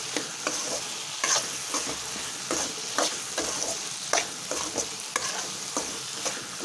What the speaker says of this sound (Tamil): இப்போது மீன் மேக்கரும் போட்டு வதக்கிக்கோங்க.